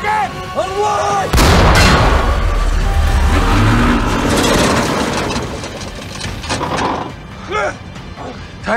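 Tank battle in a WWII film: a massive cannon blast strikes, followed by rumbling mechanical clatter, crashes and further gunfire, loud and close, with shouting voices before and after.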